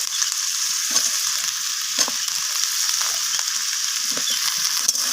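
Broad beans (flat beans) and onion sizzling steadily in a hot pan, a continuous bright frying hiss broken by periodic scraping and clinking stirs, close and even throughout with no voices.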